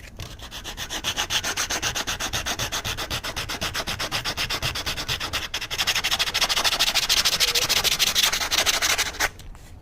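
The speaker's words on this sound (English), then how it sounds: "Get sandpaper." Sandpaper rubbed by hand over a piece of wood, a close, steady rhythmic scratching of quick back-and-forth strokes, getting a little louder partway through and stopping near the end.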